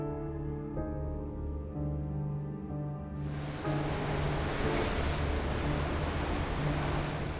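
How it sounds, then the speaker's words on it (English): Hurricane storm surf and wind roar as a broad, steady rush that swells louder about halfway through, with a low rumble beneath and no voices. "Hurricane Ian made landfall, tied as the 5th most powerful storm ever to hit the United States"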